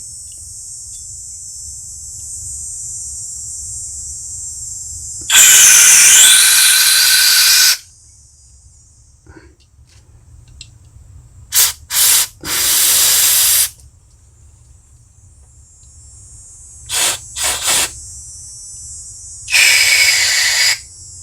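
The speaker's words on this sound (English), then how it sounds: "anywhere there's an orifice, I'm gonna spray some carb spray" Several bursts of carburetor cleaner spray hiss into the carburetor of a Toro CCR 1000 snowblower over a steady high background whine: one long spray, a few short quick blasts, then another longer spray.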